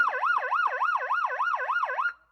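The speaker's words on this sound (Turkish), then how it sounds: "Sirenleri çaldı, polis motoruna bindi." A police motorcycle's wailing siren sweeps up and down in a steady, rapid cycle, loud and close for about two seconds before cutting off abruptly, with no voices.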